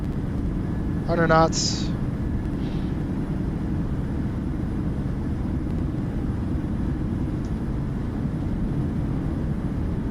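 An airliner's thrust reversers on landing in a flight simulator game give a loud, constant low roar for the whole stretch, with a brief voice callout near the start over the rumble.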